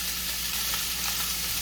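Venison sausage sizzles and fries steadily in a pan as it browns, a continuous close hiss with no talk over it.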